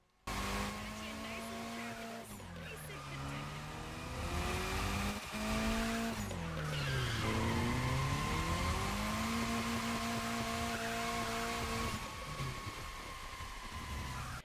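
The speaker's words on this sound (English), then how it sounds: "go over to the only drift event in the entire playlist, jump into it with any drift car" A Mitsubishi Lancer Evolution drifts in The Crew Motorfest racing game, its engine whining and rising and falling in pitch while tires squeal through long slides, loud and continuous, with a voice talking over it.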